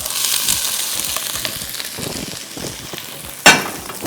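Garlic fries in two tablespoons of oil in a pan, giving a steady bright sizzle with faint scraping, then a sharp clatter near the end.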